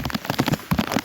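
Steady downpour of rain with dense drops pattering on a surface, close and fairly loud, with no voices.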